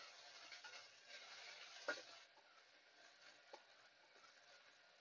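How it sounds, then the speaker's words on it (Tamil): Tomatoes with a little salt sautéing in a pan, a faint, steady low sizzle with soft stirring scrapes and one brief louder clink near the start, no talking. "பாருங்க, தக்காளி பழம் நல்லா வதங்க ஆரம்பிச்சிருச்சு"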